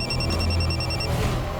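A telephone rings indoors with a rapid series of bright electronic pulses for about a second, then stops, leaving low room hum; nobody speaks.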